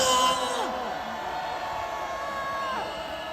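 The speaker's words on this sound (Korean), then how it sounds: "함성 발사! 소리 질러!" A crowd at an outdoor anti-impeachment political rally in front of the investigative agency office in Korea shouts and cheers at a steady volume, with a loud burst of voices at the start and raised yelling carrying on after it.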